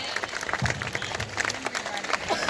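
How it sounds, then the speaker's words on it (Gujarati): Guests applaud schoolchildren at an education event in Keshod, a steady crowd of many hands clapping at moderate distance, with faint voices mixed in. "એકવાર અમારા બાળકો માટે પ્લીઝ મહેરબાની કરીને જોરદાર તાળીઓ વગાડે."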